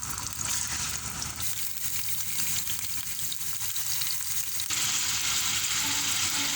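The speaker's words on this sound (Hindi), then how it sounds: "अब मैं इसमें ऑयल डाल दूंगी। चिकन डाल दूंगी इसके अंदर ही।" Chicken frying in oil for chicken karahi makes a dense, continuous sizzle, crackling close by. The sizzle grows louder and brighter partway through and then holds strong to the end.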